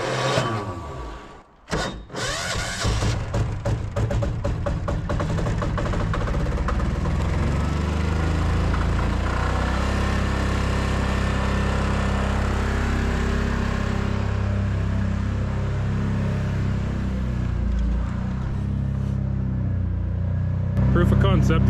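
An off-grid diesel-powered air compressor, crudely rigged with open holes and poor fuel, runs with a steady loud low rumbling engine drone after a brief sputtering start, with a voice speaking over it.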